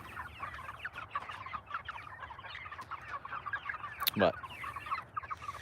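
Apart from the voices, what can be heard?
meat chickens clucking in backyard coop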